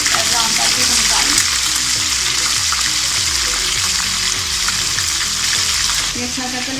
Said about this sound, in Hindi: यूँ मैं सारे कबाब फ्राई करके निकाल लूँगी